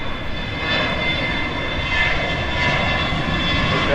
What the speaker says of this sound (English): this plane was taking off